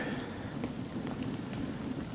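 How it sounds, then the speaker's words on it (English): Steady rain downpour pattering densely on surfaces near an outdoor campfire, a constant hiss with scattered drops, no voices. "quite the little downpour here."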